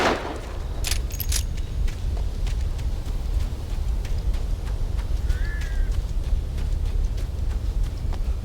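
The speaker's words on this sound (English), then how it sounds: "Birds." Crows cawing in the video game Alan Wake: a brief pair of calls in the middle, faint and distant over steady low ambient rumble and scattered clicks.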